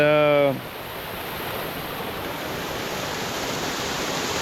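A waterfall at Los Chorros de Las Caleras in El Salvador pounds against rock, a loud steady roar that rises after a brief voice at the start and then continues alone.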